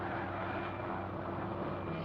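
A helicopter from a Doctor Who Season 8 episode drones steadily throughout, a continuous engine and rotor roar at moderate level with no breaks and no voices.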